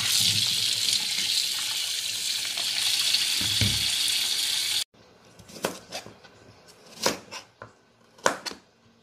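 Apples, carrots and watermelon are washed for juice under a running kitchen tap that gushes steadily for a few seconds, then stops. Sharp knife taps and slicing clicks follow one after another at close range.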